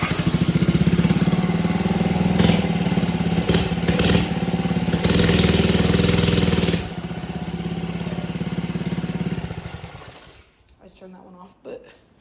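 Small minibike engine running loud and near, a rough buzzing drone that shifts in pitch, drops lower partway through, then cuts out near the end leaving a few faint clunks.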